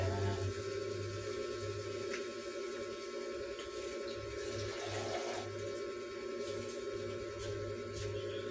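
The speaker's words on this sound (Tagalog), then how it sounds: "Lalagay po tayo ng kaunting water." Water poured into a pan while cooking sautéed chayote and cabbage with ground pork makes a steady splashing, running-water wash over a constant background hum, lasting several seconds without speech.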